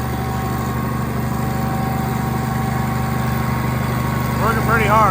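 Tractor engine working hard under load on a dynamometer, a steady droning roar with constant pitch, briefly joined by a voice near the end.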